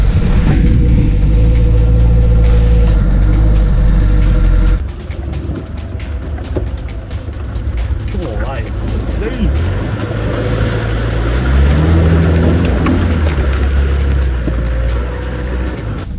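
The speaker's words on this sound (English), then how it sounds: "this takes you straight into another water crossing, which I had an idea to wash the truck on" An off-road truck ploughs through a water crossing at an off-road show, its loud engine droning and revving while water churns around it, with a sudden drop in intensity partway through and a voice talking throughout.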